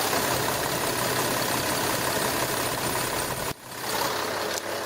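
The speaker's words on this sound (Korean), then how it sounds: "경유 엔진 치고 정숙한 엔진 소음 만나볼 수가 있고요." A Kia Mohave 3.0 diesel V6 idles steadily and close by, a smooth, even hum with no talk, briefly dipping for a moment near the end before resuming.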